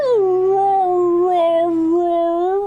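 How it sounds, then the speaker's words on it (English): A husky howls in a long, sustained, wavering tone close by, steady and loud for nearly three seconds with rich harmonics, with no talk over it. "Made my dog howl."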